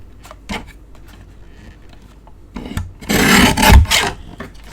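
A paper trimmer slices through a sheet of card stock in one loud, rasping cut lasting about a second, after quieter shuffling and handling of the paper.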